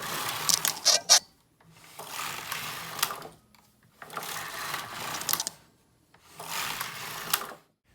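A knitting machine runs in four repeated passes, each a rasping, whirring carriage stroke knitting rib stitch, separated by short silent gaps.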